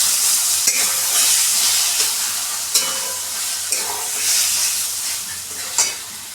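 Mashed eggplant bharit fries in a hot pan while a spatula stirs it, producing a steady sizzle broken by repeated scraping knocks against the pan. Close and fairly loud, with no talking.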